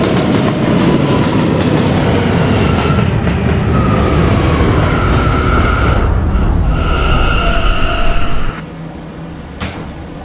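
An R179 subway D train on a Roblox line runs loud and close with rumbling wheels and rhythmic clatter, then the noise drops sharply near the end as it slows.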